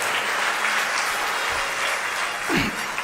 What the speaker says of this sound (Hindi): तो तालियां आप बहुत कमजोर बजाते हैं।